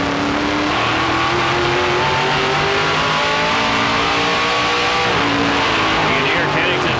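Stock cars at the 2011 A&W Cruisin' the Dub 300 roar down the front straightaway, a loud continuous engine drone with pitch shifts as cars pass, under a commentator's talk.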